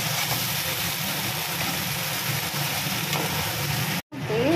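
Red amaranth greens stir-fry with garlic in a pan, giving a loud, dense, continuous sizzle with stirring that breaks off briefly near the end before resuming.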